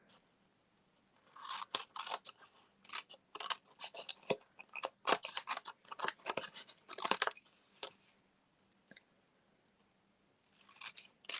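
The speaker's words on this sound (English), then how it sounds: "we can trim off, because we could probably use these" Scissors snip through stamped card paper, trimming off spare pieces at a craft table in a series of close, crisp cuts with short pauses between bursts, no talking.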